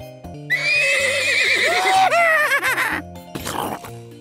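A horse lets out a loud, long whinny that wavers up and down, ending with a shorter snorting burst, close and clear with no talking.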